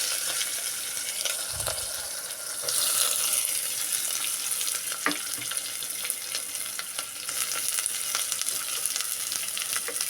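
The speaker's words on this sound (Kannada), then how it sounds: "ಸೊ ಈಗ ಉಳ್ಳಾಗಡ್ಡಿನ ಹಾಕ್ಕೊಂಡ್ಬಿಡ್ತೀನಿ." Onions fry on high flame in a pan, giving a dense continuous sizzle with occasional clinks and stirring scrapes, close and steady throughout.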